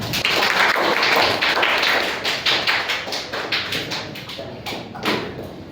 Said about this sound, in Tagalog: binigay niyo ang sarili niyo ng palakpak